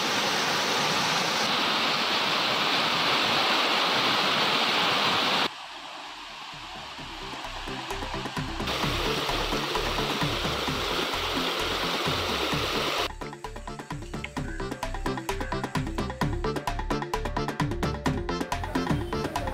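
Water rushes in a steady broadband roar at Meghamalai waterfall in Theni district, swollen after heavy rain. The sound cuts between loud continuous torrent and quieter, choppier stretches of flowing water.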